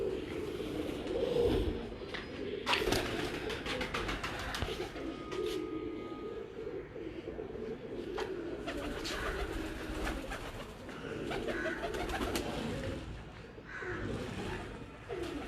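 Breeder pigeons in a loft in Kasur coo steadily and close by, with soft repeated calls over a busy background of rustling and other bird noise; faint voices are also present.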